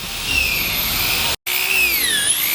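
A power sander grinds steadily along a boat's lower rub rail with 80-grit paper, a loud continuous whine with shifting pitch that cuts out briefly midway and then resumes.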